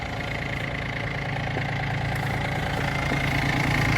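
A Yanmar F-180 compact four-wheel-drive tractor engine idles steadily at close range, a continuous mid-to-low rumble with a faint knocking pulse and no voices over it.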